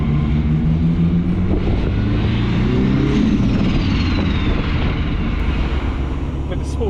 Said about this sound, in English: You can hear the spooling, can't you?